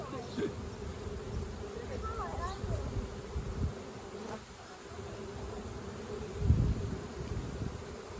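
A dense, steady buzz of a honeybee swarm fills the clip, with a louder low thump near the end.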